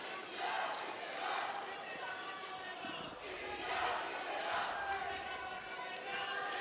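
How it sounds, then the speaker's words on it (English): Crowd in an arena cheering at a Commonwealth Games 2022 freestyle wrestling gold medal match in the West Midlands, swelling and fading in waves of shouts, with a commentator talking over the noise. "You can hear the Indians in the crowd."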